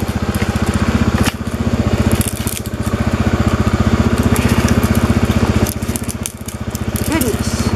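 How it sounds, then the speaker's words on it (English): A chainsaw cutting through a fallen tree drones steadily at close range with a rough, buzzing motor rhythm, dipping briefly a few times as the throttle eases. "I bet that's why he brought his chainsaw."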